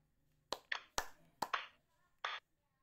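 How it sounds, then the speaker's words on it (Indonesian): Sharp hand claps ring out close by, about six of them in quick, uneven bursts, with no talking. "Tepuk tangannya 3 kali ya kalau malam."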